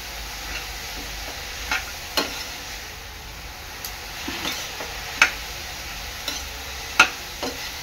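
Vegetables for veg spring rolls stir-cooked in a pan, with a quiet steady sizzle broken by intermittent sharp scraping and clicking stirs, no voices.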